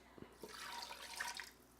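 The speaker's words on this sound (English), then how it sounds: "I'm going to pour 1 cup of broth in here." One cup of broth poured into a pressure cooker pot: a brief, soft splashing trickle of liquid, faint and close, with no talking over it.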